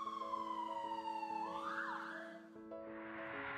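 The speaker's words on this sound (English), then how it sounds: "Ambulance." An ambulance siren wails alone, its tone sliding down, then sweeping up and dropping before a second rising wail begins.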